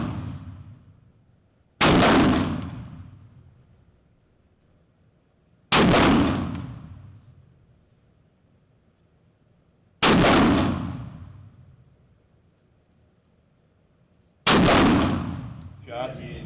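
Five sharp carbine rifle shots ring out at a range, spaced about four seconds apart, each a loud crack with a ringing decay; a faint clang follows the final shot.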